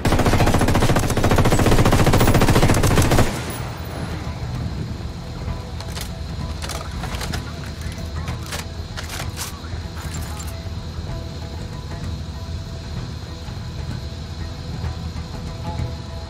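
Automatic gunfire in the video game Ghost Recon Wildlands roars in a loud, dense burst for about three seconds, then gives way to a quieter stretch with scattered distant shots and clicks over steady background noise.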